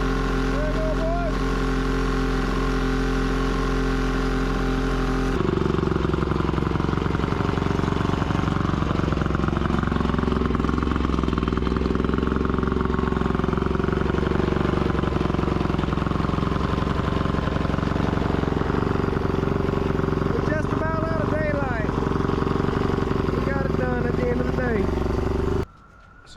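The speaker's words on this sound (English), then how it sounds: "Pretty mean sounding 3-cylinder, don't you think? Yep, it runs pretty good." A 3-cylinder outboard motor on a bass boat runs after a cold start, a steady droning rumble that shifts in pitch after a few seconds and continues until a sudden stop, with people talking over it.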